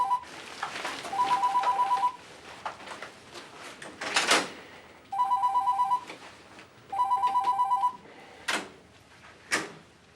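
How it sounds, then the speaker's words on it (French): A telephone rings in a drama scene with a repeated electronic ringtone in three bright bursts, mixed with a few sharp door-like thumps between the rings. "Et toi, ton téléphone sonne."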